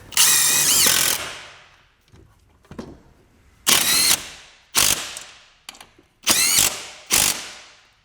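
An impact drill drives screws into a wall while a Chamberlain RJO20 wall-mount garage door opener is installed, heard as a long rattling burst and then several short, loud hammering bursts separated by pauses.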